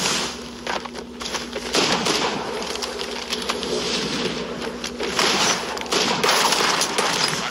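Halo CE video game gunfire, a sustained rapid rattle of automatic shots with a buzzing hum underneath, loud and continuous throughout.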